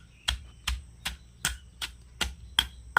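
Rhythmic knocks of a stone grinder crushing chutney by hand, eight evenly spaced sharp strikes against stone, close and fairly quiet with no talk.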